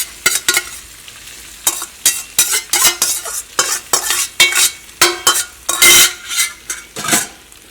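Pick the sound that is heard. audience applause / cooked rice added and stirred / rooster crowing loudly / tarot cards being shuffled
cooked rice added and stirred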